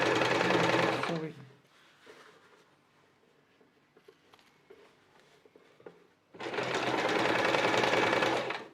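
A sewing machine stitches bias binding onto a dress neckline in two loud, steady runs, with a quiet pause between them where a voice speaks briefly.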